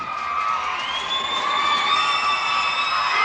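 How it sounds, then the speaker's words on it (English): Crowd at a high school basketball game between Gate City and Marion, cheering and whooping loudly during a free throw, with a sustained roar and shrill rising shouts that hold for a few seconds. "A lot of noise from the crowds, and it works."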